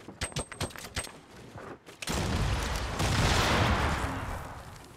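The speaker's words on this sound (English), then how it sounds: "And then I'm gonna grab this grenade. I'm gonna open a window, throw that in there." A thrown grenade in a video game: several sharp clicks and thuds, then a heavy booming explosion that rumbles and decays over a few seconds.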